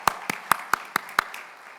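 At a church Sunday service, hands clap six times for a violinist in a quick, evenly spaced run of sharp, close claps, then stop.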